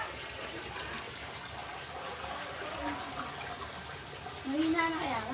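Water drains quickly from an African catfish pond, a continuous gushing rush like a running tap that swells louder near the end and is heard without clear talk.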